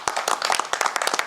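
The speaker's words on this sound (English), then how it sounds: "We're small, but we can clap louder." Small group of people applauding at a Turks & Caicos Islands launch event, a dense patter of claps for just over a second, fairly close and moderately loud.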